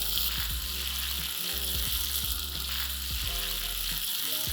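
Prawns ghee roast with curry leaves and masala sizzles steadily in a pan, with stirring scrapes sounding in an even rhythm close by. No voices.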